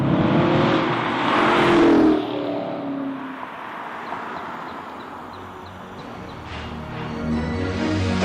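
A Chevrolet Camaro 1SS with its V8 engine revs hard, a loud rising roar that eases back into a lower steady drone before building again near the end.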